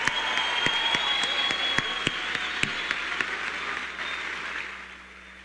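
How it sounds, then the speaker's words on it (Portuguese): Applause from an audience at a political congress in Paraná, dense and steady clapping across the room, holding loud for several seconds before thinning out and fading at the end. "Uma salva de palmas para Arthur Duval."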